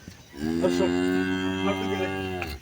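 A large, high-yield dairy cow on a farm lets out one long, sustained low moo lasting about two seconds, loud and close, with no talking.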